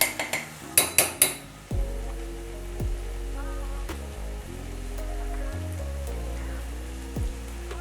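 Dal stirred in a cooking pot, with a few quick clanks of utensil on the pot near the start, then a steady low simmering bubble and occasional scrapes and taps, close and moderately loud, no talking.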